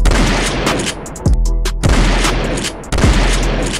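Gunfire from a firearm at a range, several loud close shots with heavy booming tails, the reports coming in a quick irregular cluster, a brief pause, then more shots.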